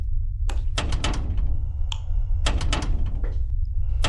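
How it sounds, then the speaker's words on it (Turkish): A locked door in a horror game is tried and won't open, giving a series of heavy thunks and rattling knocks in irregular bursts separated by brief quiet gaps. "Abi şu kapı açılmıyor."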